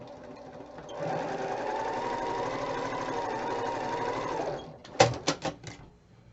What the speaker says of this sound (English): I'm just going to start one at a time adding these together or sewing these together